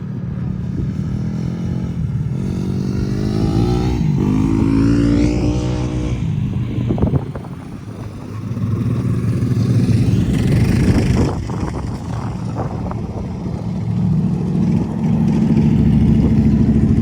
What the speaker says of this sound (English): We're seeing a lot of side-by-sides, Can-Ams, rails.